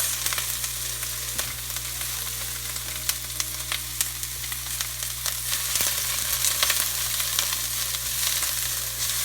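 Vegetables and carrots for Korean japchae glass noodles stir-fry in a hot pan, with a continuous bright, crackling sizzle and scattered spatter pops, close and steady without talk.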